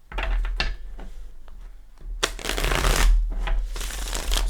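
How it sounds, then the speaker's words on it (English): Tarot cards riffled and shuffled at close range in several bursts, a short burst early, then louder, longer papery runs after a brief pause, with no talking. "Let's give it a few shuffles."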